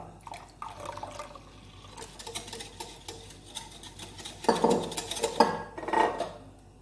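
Water poured into a cooking pot of Punjabi kadhi pakora batter while being stirred, with clinking metal against the pot, splashy bursts growing louder near the end, no talk.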